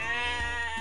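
A toy sheep bleats once in a short, clear, wavering electronic baa, close and alone.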